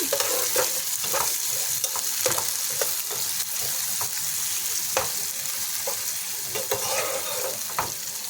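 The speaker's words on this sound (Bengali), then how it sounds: "আমি এখন একটু নাড়াচাড়া করে নেব, একটু ভালো ভেজে নেব একটু" Chopped chilies fry in hot oil while a spoon stirs them. A steady close sizzle runs throughout, with repeated sharp scraping clicks from the stirring.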